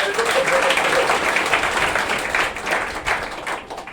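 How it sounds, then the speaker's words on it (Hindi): Audience claps steadily through a prize distribution for top students at a coaching centre, a dense, loud patter that thins slightly toward the end. "तालियां बजाइए आप"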